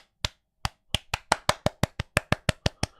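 Sharp slapping footsteps of a walking character, thirteen crisp hand-clap-like smacks in a quickening, fairly regular rhythm after a sparse start, close and dry against near silence.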